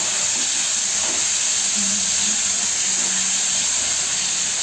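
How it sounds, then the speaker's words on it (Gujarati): Steady loud hiss of something frying in hot oil, continuous and even throughout with no pauses. "આવો વઘાર થાય છે બધું ભડકો થઈ જાય."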